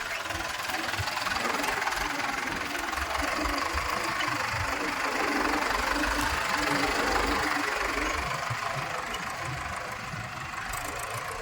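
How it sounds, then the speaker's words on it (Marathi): A farm tractor engine runs steadily and loudly, a rough knocking drone holding nearly unchanged throughout, close by with no breaks. "मी आता सुजलचं ट्रॅक्टर चालवायलो."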